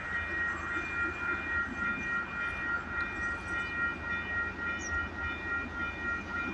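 A CP freight train led by a seven-engine lash-up that includes a BNSF unit rolls past, a steady loud rumble of engines and wagons with a faint high tone above it.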